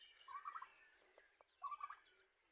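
Turkeys gobble twice on a farm, two rapid warbling calls from a short distance with a quiet gap between them and no other voices.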